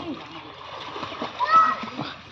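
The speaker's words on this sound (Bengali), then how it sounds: "মাকিবুল সাঁতার শিখে যাবে" A child swimming and learning to swim in water: splashing and churning up close, mixed with children's and adults' voices talking over it throughout.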